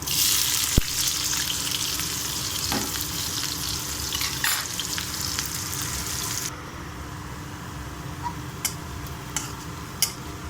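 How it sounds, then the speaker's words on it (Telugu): Onions sizzle in hot oil for mutton keema, a steady loud hiss with scattered ticks and pops that eases slightly partway through. No one speaks. "ఆయిల్ వేడైందండి. ఉల్లిగడ్డ వేసుకుందాము."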